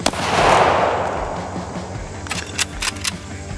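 A shot fired at a titanium wallet gives a loud whooshing blast at the start that fades, followed by a few sharp, quick clicks and cracks at close range.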